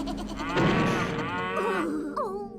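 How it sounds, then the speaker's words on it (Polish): Cartoonish cow moos from the Mad Cow weapon in Worms Armageddon, several overlapping bellowing calls rising and falling, loud and close, with a brief game effect beforehand. "Krowy znowu."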